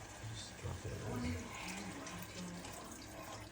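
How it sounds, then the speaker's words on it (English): Beef broth pours into a stew pot of Mexican caldo with stew meat, a soft steady liquid splash and gurgle close by, with faint low voice murmuring underneath. "And now I'm gonna do the beef broth. Just drop that in."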